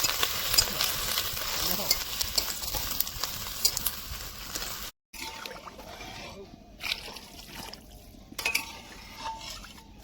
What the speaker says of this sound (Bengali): মাংসটা ভাজা হয়ে গেছে তারপরে আমরা একটু জল দিয়ে নিলাম